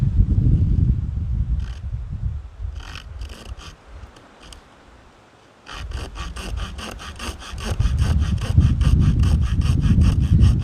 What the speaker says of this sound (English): This saw is great. The saws on these and the Swiss Army knives are outstanding.